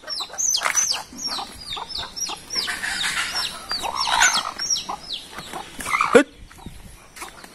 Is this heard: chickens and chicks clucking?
yes